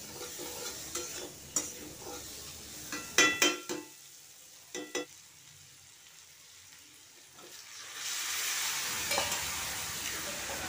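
Potatoes, chickpeas and spices stirred and fried in a pan with banana flower, giving scraping spatula strokes and a steady sizzle that grows louder toward the end, with no one talking.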